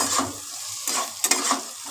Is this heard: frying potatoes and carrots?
yes